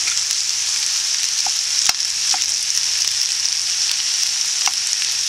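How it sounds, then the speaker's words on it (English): Teriyaki chicken sizzles in a pan as it is stirred to heat through: a loud, continuous frying hiss runs throughout, with a few light utensil taps against the pan. "I stir it around till everything is heated through."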